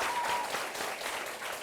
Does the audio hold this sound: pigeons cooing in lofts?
no